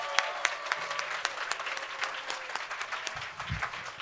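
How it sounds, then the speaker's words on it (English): A theater audience before a stage performance of Alice in Wonderland breaks into sustained applause, a dense, even patter of many hands clapping with scattered louder claps that continues throughout. "Show us your applause."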